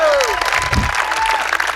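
An audience claps together in a short, dense burst of applause with a little crowd noise, close and loud, while a tonal voice-like sound glides over it.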